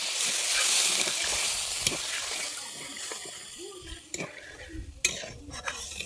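Gravy for paneer butter masala being stirred in a pan with a utensil, soft scraping and occasional clinks against the metal, close and moderately loud, with a watery swish as a little water goes in.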